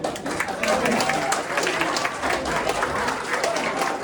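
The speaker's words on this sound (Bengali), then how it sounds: "জোরে হাততালি হয়ে যাক।" Sustained applause from a crowd at a Rabindra Jayanti celebration, steady and full throughout, with voices mixed into the clapping.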